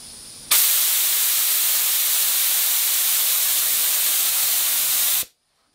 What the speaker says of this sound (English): I'm just about ready to start spraying